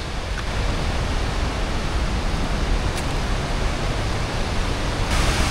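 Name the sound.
Charpa waterfall in Kerala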